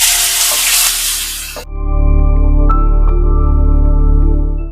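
Chopped onions go into hot oil for a Bengali-style egg curry, giving a loud, close hiss of frying that lasts about a second and a half. It then cuts off, leaving a steady humming tone.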